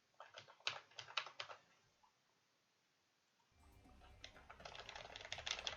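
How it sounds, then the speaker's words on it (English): Fingers type on a computer keyboard in quick clustered bursts of clicks, then a pause, then a denser stretch of typing over a low background rumble, fairly faint and with no talk. "I think what you all tuned in to hear is loads of typing noises."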